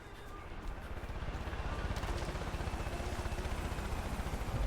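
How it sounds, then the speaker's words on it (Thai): Helicopter rotor chopping in the video game Far Cry 5: a steady rhythmic thumping drone that holds at an even level throughout, fairly distant, with faint game sounds underneath. "เฮลิคอปเตอร์หลายลำขนาดนั้นเลยเหรอ"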